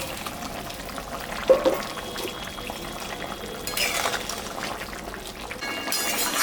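Fish curry broth with raw green banana bubbling in a pot as pieces of fish are added, a soft steady simmer with a brief splash and a few faint utensil clinks, no talking.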